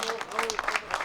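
Applause from a crowd at the podium ceremony of a Basque amateur cycling stage race in Saint-Palais, a short steady burst of clapping with voices mixed in.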